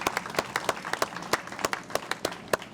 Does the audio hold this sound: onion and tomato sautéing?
no